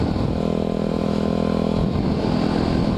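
A motorcycle engine revs loud and close in a steady, throaty roar, holding high for a couple of seconds before dropping back briefly and picking up again, with no talking.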